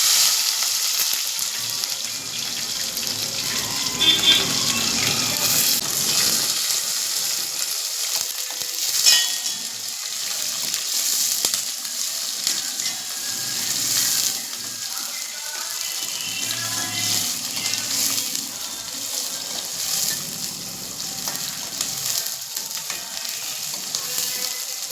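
Fenugreek, onion and green chillies fry in a pan for a fish curry, giving a continuous loud sizzling hiss with occasional stirring scrapes and soft knocks throughout.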